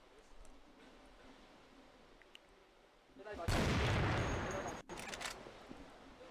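Gunfire in a CrossFire competitive match, QJ versus Q9 in the 2018 league: a quiet stretch, then a loud dense burst of shots lasting over a second, a sharp cut, and further shots trailing off.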